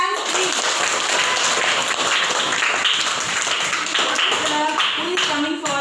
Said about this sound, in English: Clap hands please.